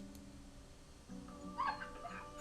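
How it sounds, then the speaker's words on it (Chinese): Faint dog yelps and whimpers from an animated Dogecoin NFT, a short high cry rising over a quiet background hum, with no talking. "这是狗的惨叫"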